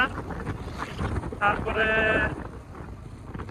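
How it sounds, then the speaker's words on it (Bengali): Strong wind roars and buffets the microphone while a motorbike rides along Marine Drive, a continuous rushing blast with a brief spoken word near the start. "এই বাতাস, প্রচুর বাতাস"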